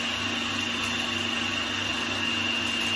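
A food processor spins a sweet potato and chickpea falafel mixture, giving a loud, steady whirring drone that holds constant from start to finish with no talking over it.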